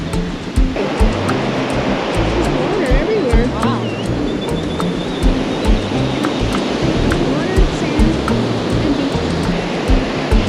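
Ocean waves wash steadily onto a beach near small cabins, a loud continuous roar of surf with rolling swells, while a few faint voices and stray sounds come through now and then.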